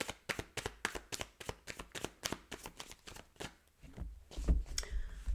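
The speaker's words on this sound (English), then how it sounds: "I'm just going to shuffle once on camera for you" A Gilded Tarot deck is shuffled close up, with a quiet, rapid series of crisp card snaps and slaps in an uneven rhythm.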